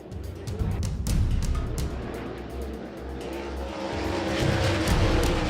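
Sprint race cars roar around a speedway through turns 3 and 4, engines droning loud and steady with a swelling pass-by and faint tire noise, a commentator talking over the action.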